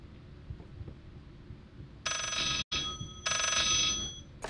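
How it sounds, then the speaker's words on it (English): A telephone rings in the horror video game Layers of Fear, two bright electronic ring bursts with a short gap between them, clear and close over a low, quiet ambient background. "Answer the phone."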